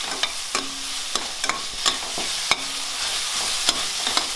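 Ginger garlic paste sautéing in a pan for spicy chicken fry, a steady close sizzle broken by regular scraping strokes of a spoon against the pan, with no talking.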